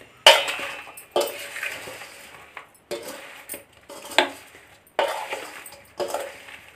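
Spoon clanks and scrapes against a pot while mango pickle is mixed with oil, several separate loud clinks with quieter scraping in between.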